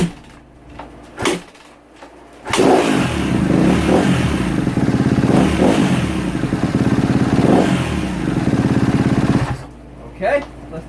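A Kawasaki KX250F dirt bike with a suspected fuel pump fault fires up after a couple of clattering thumps, then runs loud and steady close by for about seven seconds before cutting out.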